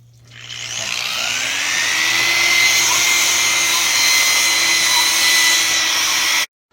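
Steady whirring motor of a sander wet sanding a concrete countertop, loud and close, with a constant high hiss and a faint rising whine as it spins up, running continuously for several seconds before cutting off abruptly.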